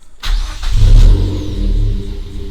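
A Mazda2 with filled engine mounts, sitting on stands, cranks and fires up, then settles into a loud, close, steady idle with a slight rise and dip in rumble.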